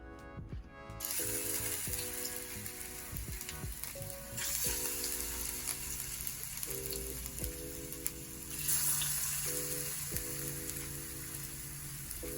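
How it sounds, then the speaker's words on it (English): Plantains frying in coconut oil in a pan, giving a continuous close crackling sizzle with a few brief scraping and clicking touches, steady throughout. "we're going to fry the plantains until they are golden brown on both sides"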